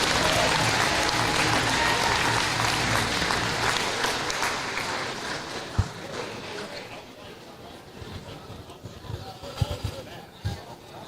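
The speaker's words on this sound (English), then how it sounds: "Let's give them a big round of applause." Applause and crowd noise from spectators at a Class A high school basketball game between Wahpeton and Lisbon, dense clapping fading over several seconds with a few sharp thumps near the end.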